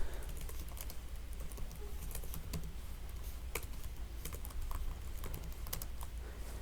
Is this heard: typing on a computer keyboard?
yes